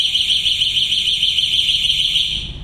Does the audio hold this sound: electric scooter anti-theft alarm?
yes